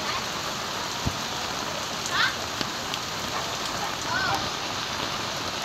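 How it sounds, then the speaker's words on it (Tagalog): Heavy typhoon rain pours steadily in a thunderstorm in Dasmariñas, a dense continuous hiss of drops on surfaces with a few brief sharper knocks, and voices talk faintly in the background. "Rain, rain. Go away."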